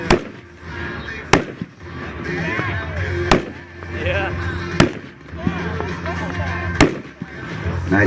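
Consumer firework cake, Empire Fireworks Point Break, fires a series of about five sharp, loud bursts at irregular intervals over a steady crackling background, with people talking between the shots.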